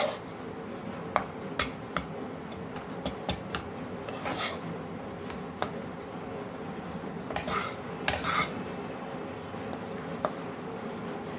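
Wheat flour is roasted in a pan for Sindhi atta ladoo, with a spoon scraping and rubbing the pan bottom in repeated dry strokes and small metallic clinks, close and steady, with no talking.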